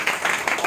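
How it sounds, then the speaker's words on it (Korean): Applause at a shareholders' meeting, a brief burst of many hands clapping together in a dense, rippling wash. "박수."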